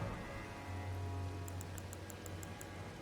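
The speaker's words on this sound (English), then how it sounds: "And it's raining." Rain falling in the video game Elden Ring, a soft steady patter on surfaces with a low hum beneath and a run of faint regular ticks partway through.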